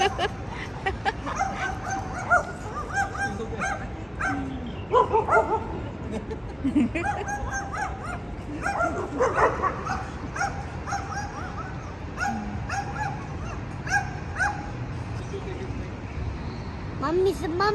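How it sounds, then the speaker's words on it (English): Small dogs yip and bark repeatedly, some whimpering, mixed with people talking nearby throughout. "The baby dog wants to fight with the big dog."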